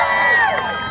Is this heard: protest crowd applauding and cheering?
yes